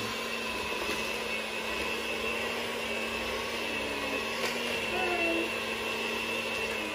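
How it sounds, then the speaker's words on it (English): Electric whisk mixing banana bread batter, a steady continuous motor whir at moderate level running throughout with no speech. "We use an electric whisk because it's so much easier."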